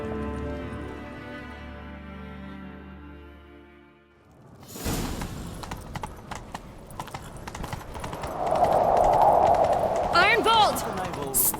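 In The Witcher 3: Wild Hunt, a sustained tone fades out, then a horse's hooves clatter in a quick galloping rhythm, growing louder, with a whoosh and a whinny-like sweep near the end.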